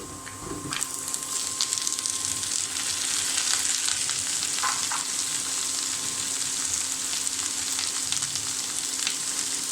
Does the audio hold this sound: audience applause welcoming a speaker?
no